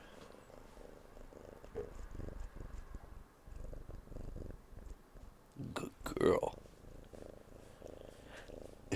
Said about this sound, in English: You hear that purr?